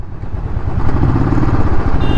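A Royal Enfield Classic 350 BS6 motorcycle engine runs steadily and close by, giving a continuous low, even drone with no voices.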